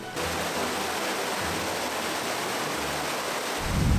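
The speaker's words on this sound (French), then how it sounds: "la cascade elle avait un débit assez faible, il y avait juste un petit filet d'eau" A thin, low-flow trickle at the Clairefontaine waterfall on a hike in the Ain in February: a steady broadband wash of falling water, close and constant, with a brief low rumble toward the end.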